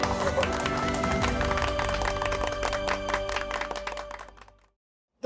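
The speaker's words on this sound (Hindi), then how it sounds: "तालियां तालियां।" Clapping and cheering from a crowd at a Strong Woman award ceremony, a dense steady wash of many hands with some voices mixed in, continuing for about four seconds before fading out abruptly to silence.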